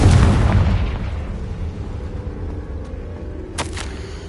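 A Confringo fire spell goes off in a video game as one loud close boom that rumbles and decays over a few seconds, followed by a short bright crackle near the end.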